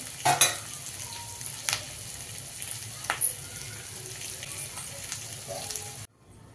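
Capsicum and meal maker chunks fry in a pan with a steady, low sizzle, broken by a few sharp clicks of a spoon against metal, before a sudden cut to near silence at the end.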